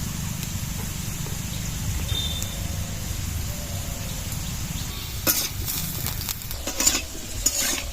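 Potatoes fry in a pan with a steady, close sizzle. Scraping and clinking from a utensil stirring against the pan join in over the last few seconds.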